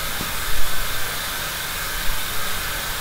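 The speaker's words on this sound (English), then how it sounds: "So that sizzling sound, that's the reactor." Steady broadband hissing sizzle from a video game reactor, loud and continuous throughout, with a few faint low thumps underneath and no voices.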